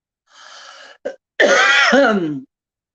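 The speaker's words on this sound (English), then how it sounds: "Although I've been coughing" A person clears their throat with a short rasping burst, then a brief catch, followed by a longer, louder throaty cough that trails off into a low rumble, close and alone.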